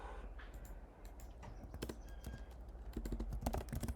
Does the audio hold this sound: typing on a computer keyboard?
yes